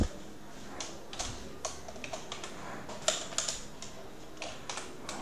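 Quick keystrokes on a computer keyboard as a message is typed, an irregular run of light clicks with a few louder taps, fairly close and steady, with no voice over them.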